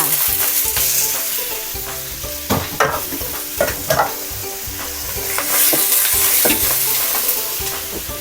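Scallops sizzle loudly in a hot pan for a spicy Thai herb stir-fry, with continuous frying hiss and repeated scraping and clacking as a utensil tosses them, close up and without talk.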